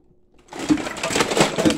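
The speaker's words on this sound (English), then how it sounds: "Now I'm going to use the Dyson." A Dyson DC25 vacuum cleaner switches on after a brief quiet moment, and its motor quickly rises to a loud, steady whirring roar.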